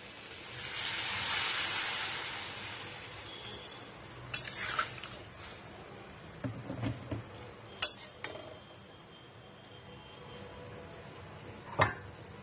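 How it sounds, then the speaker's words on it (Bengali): Hot water poured into a pan of papaya cooked with spices, raising a swelling hiss of steam, followed by scattered clinks and scrapes of a utensil against the pan. "এবার আমরা গরম জল দিয়ে দেব।"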